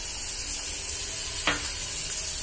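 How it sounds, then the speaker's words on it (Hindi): Ground onions fry with browned cumin seeds for palak paneer, giving a steady close sizzle with a brief scrape of stirring midway. "अब हम इसमें पिसे हुए प्याज डाल देंगे"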